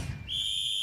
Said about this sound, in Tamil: இன்று பறக்கும் நமது விசில் சத்தம்